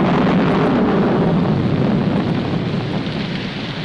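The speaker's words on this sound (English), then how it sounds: "Put this top up. It's going to rain." A heavy thunderstorm with steady, loud rain and a deep rolling rumble of thunder fills the scene, dense and continuous, easing slightly toward the end.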